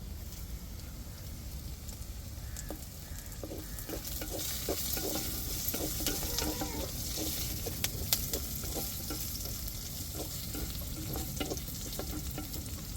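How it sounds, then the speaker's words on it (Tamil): Onions and curry leaves frying in a pan, a steady close sizzle with repeated scraping and stirring clicks from a utensil, continuous throughout. "நல்லா வெங்காயம் நல்லா பொன் நேரத்துக்கு வரட்டும் வதங்கி வதங்கி வந்துருச்சு இப்போ கருவேப்பிலை சேர்த்துக்கிருவோம்"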